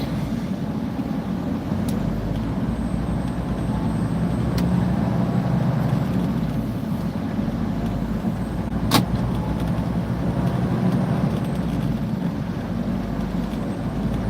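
A steady, low engine drone and road rumble fill the cab of a truck driving on a cold day, continuous and fairly loud throughout, with a couple of faint clicks and no talking.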